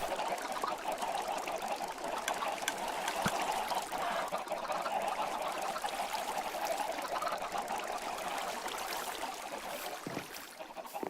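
Constant clucking from a crowd of chickens in the video game Minecraft, a busy, overlapping babble of bird calls that carries on steadily, with a few sharp clicks mixed in.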